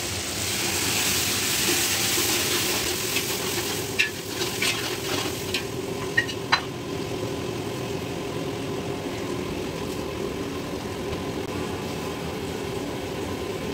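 Tomatoes added to browned onions frying in a pan for Arabic royal chicken biryani, a steady loud sizzle with a few sharp clinks and stirring scrapes around the four to seven second mark.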